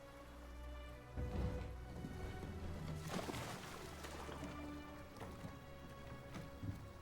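A boat moves across water in the video game Robo Marie Antoinette, with a steady, soft wash of splashing water and a few louder surges.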